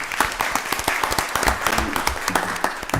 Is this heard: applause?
yes